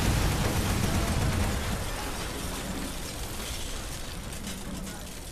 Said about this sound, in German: Ich werde gleich explodieren das Ding und ich stehe voll daneben